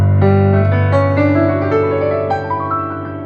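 A plucked guitar plays a G Lydian scale of single notes climbing one after another over a sustained low G, clear and close with no voices.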